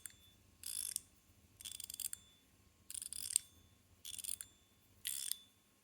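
Gao Studio Richcoin Strong Wind fidget toy turned five times in fairly even succession, each a short burst of crisp metallic ratcheting clicks, close and quiet against a faint background hum, with no talking.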